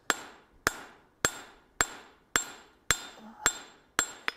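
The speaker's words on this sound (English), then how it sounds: "then I'm going to go ahead and hammer that back" Hammer blows forging a box jaw tong blank worked on a block set in an anvil, eight sharp ringing metallic strikes at a steady rhythm about every 0.6 seconds, loud and close with no talk.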